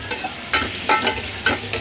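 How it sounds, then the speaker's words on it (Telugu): Onions fry in a pan, sizzling steadily while being stirred, with a few regular scraping pulses about every third of a second, close and moderately loud. "ఫ్రెండ్స్, ఇప్పుడు ఉల్లిపాయలు అనేది ఇలా వేపుకోవాలి. వేగుతున్నాయి కదా, ఇలా వేగాలి."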